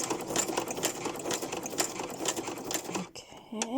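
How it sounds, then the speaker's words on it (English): A sewing machine stitches steadily with black thread, a fast rhythmic mechanical whir with needle clicks, close and continuous before stopping near the end; a voice is faintly present underneath. "I am sewing with black thread, because that's just what was in the machine"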